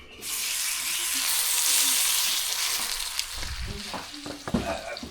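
Food sizzling hard in hot cooking oil, a loud steady hiss that runs throughout, with clinks and a few quiet voices coming in toward the end.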